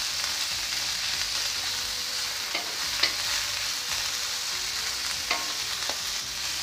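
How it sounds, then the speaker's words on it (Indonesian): Shredded cabbage, carrots and yellow and green garlic chives sizzle steadily in a hot pan for fried rice vermicelli, with a spatula scraping and stirring at intervals. "Kemudian tumis sayur kubis, masukkan ya, sekalian wortel, sekalian daun kucai kuning dan hijau."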